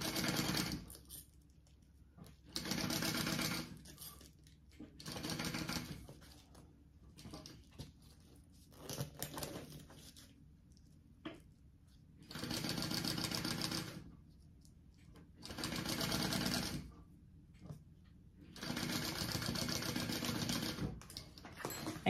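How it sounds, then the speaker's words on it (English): A sewing machine bastes fabric with a long stitch at an eighth-inch seam allowance, running in several steady bursts of rapid mechanical chatter separated by quiet pauses, close and alone. "basting is done at an eighth of an inch seam allowance, and it's a bigger stitch length, just like top stitching"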